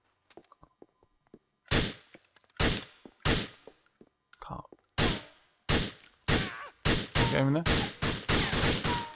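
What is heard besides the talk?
gunfire in the video game GTA IV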